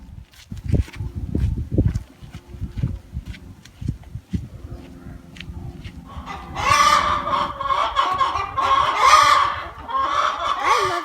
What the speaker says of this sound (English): there will be hundreds of free-range chickens